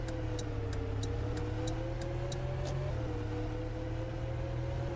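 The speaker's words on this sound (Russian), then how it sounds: "Звук поворотника мне всегда прикалывал." Steady engine drone of a Soviet bus with a faint, regular ticking of a turn signal clicking above it, several evenly spaced clicks before fading.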